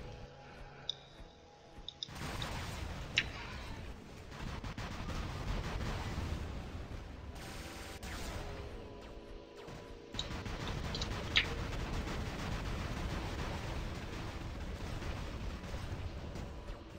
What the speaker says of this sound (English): There is a noticeable reload time here, so don't fire away non-stop, but it does reload while firing.